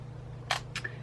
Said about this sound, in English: the shutter works fine at all shutter speeds